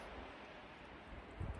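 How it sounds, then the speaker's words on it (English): Wind gusts across open New Mexico terrain during a turkey hunt, a faint, steady rushing with soft low buffeting bumps near the end. "It's windy though"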